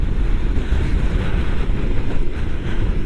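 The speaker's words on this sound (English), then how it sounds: "Who said it wasn't windy?" Loud, blustery wind buffets the microphone continuously during a motorcycle ride to a local port, a rough low rumble with no voices.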